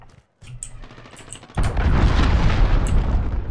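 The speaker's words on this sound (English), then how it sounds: "Allied cruise missile launched." A cruise missile explosion in the video game Call of Duty Modern Warfare, a sudden heavy boom that rolls into a sustained roar of blast and debris, preceded by faint scattered gunfire.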